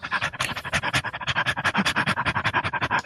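A human voice imitates a collie dog panting, a rapid rhythmic series of breathy huffs, close and fairly loud, with no other talk.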